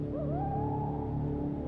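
A bird call, a hooting owl-like cry played as a sound in a children's guessing game, one sustained rising tone that holds steady over a continuous noisy background, fairly loud and with no talking.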